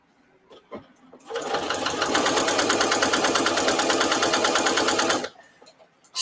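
A sewing machine stitching a placemat runs in one steady, loud, rapid burst for about four seconds, preceded and followed by a few light clicks, close up with no talk over it.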